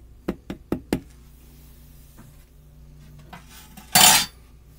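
A metal spoon knocks against a dish four times in quick succession, then gives a softer tap, while serving gravy mix from a packet, followed by a louder scraping rustle near the end; no voices.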